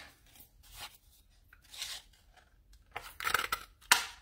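Scissors snipping a scrap of espresso cardstock. Several separate crisp cuts come close and alone, and the last few snips are quicker and louder.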